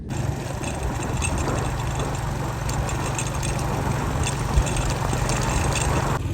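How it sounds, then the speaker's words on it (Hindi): Motorbike engine idling steadily at close range, a constant low mechanical chug with no voices. "मारते अपनी लाडली बाइक को, निकलते हैं इंशाल्लाह।"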